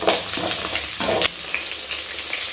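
Small shallots frying in a pan for dry fish thokku, a loud, steady sizzle with a couple of brief stirring scrapes, and no voices.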